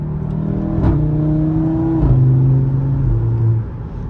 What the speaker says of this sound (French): J'adore le 5 cylindres. Ça fait vraiment un son génial.